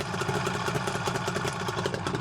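A 1977 Suzuki GT380 two-stroke triple with expansion chambers idling, a steady, even burble heard close and alone.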